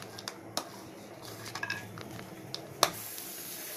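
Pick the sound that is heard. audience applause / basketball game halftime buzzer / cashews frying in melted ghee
cashews frying in melted ghee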